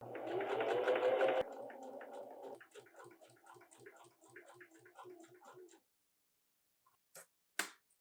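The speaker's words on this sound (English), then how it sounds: "it's our final zigzag, and then we can move on. I will forever hold these strings in tension as I start to sew" A home sewing machine stitches the final zigzag seam on a top, a steady rapid whirring hum that settles into a faster ticking rhythm before stopping, followed by a few soft clicks.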